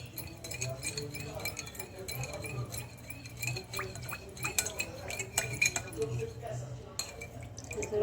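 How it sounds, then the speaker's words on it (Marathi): A spoon clinks and scrapes against a bowl while oil and ingredients for garlic naan dough are mixed, giving an irregular run of close metallic taps with a voice talking throughout. "हे सर्व आपल्याला मिक्स करून घ्यायचे हे सर्व व्यवस्थित मिक्स करून घ्यायचं आहे"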